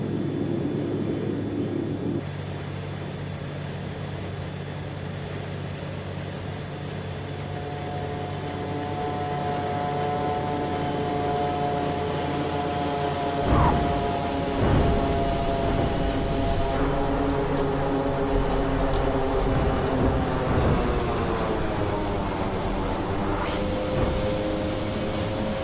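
Quest Kodiak single-engine turboprop flying in X-Plane 11, a steady droning engine tone holding throughout with a slight pitch shift partway, close and fairly loud with no talking.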